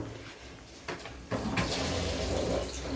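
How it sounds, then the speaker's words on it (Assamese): Dishes are washed under a running tap: a faint watery trickle at first, then the stream turns fuller and louder partway through and keeps up steadily to the end. "এইয়া তাই বাচন ধুই আছে।"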